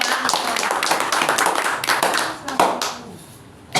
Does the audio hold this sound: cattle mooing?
no